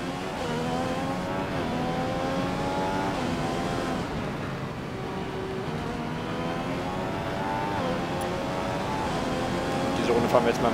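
A Formula 1 car engine in the F1 2015 racing game, practice at the Chinese circuit, holds a steady high-pitched whine with gear shifts and pitch rises, continuous and fairly loud.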